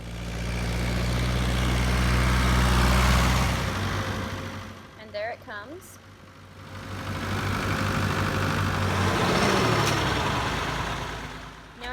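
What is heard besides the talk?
tractor driving in pulling feeder mixer wagon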